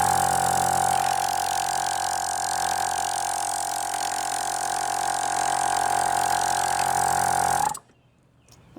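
A Gobege 12-volt air compressor runs with a loud, steady motor drone and a strong sustained whine, then cuts off abruptly near the end, leaving brief quiet.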